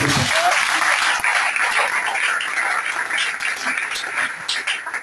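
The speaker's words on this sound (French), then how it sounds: "Est-ce qu'on peut acclamer très fort?" A church congregation at a Sunday service in Gabon applauds loudly, with dense, sustained clapping and cheering across the whole stretch and no pause.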